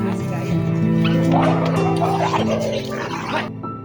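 A dog barks and yips in a quick run of sharp, near barks, then whimpers, with people talking loudly over and around the calls.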